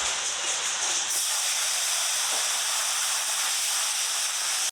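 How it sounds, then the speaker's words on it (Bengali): Small fish frying in hot oil in a pan, a continuous bright hissing sizzle that stays loud and steady, with a brief shift in tone early on. "এবার বাকিগুলো ভাজবো"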